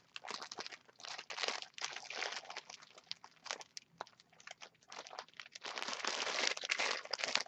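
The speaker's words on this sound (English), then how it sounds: "Sorry about the rustling," Crinkly plastic packaging rustles and crunches in bursts for several seconds, close to the microphone, with no talking.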